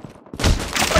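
Call of Duty Mobile video game gunfire, a quiet moment that is suddenly broken by a loud, dense burst of rapid shots filling the second half.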